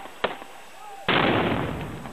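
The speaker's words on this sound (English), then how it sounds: "He fires 3 shots." A gunman fires three shots at close range into a crowd at a political rally in Pakistan. Sharp cracks come in quick succession, followed by a loud, booming burst that slowly decays.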